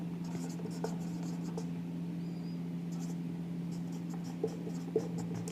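Pen writing an accounting journal entry for an issue of equity shares on paper, soft continuous scratchy strokes with a few light taps, close, over a steady electrical hum.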